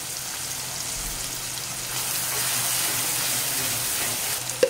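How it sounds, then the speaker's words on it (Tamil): Chopped onions and tomatoes sautéing in a pan for prawn thokku give off a soft, even sizzle that holds steady throughout, close and fairly quiet, with a small knock near the end and no voices. "வெங்காயம் நல்லா வதங்கி வரட்டும்"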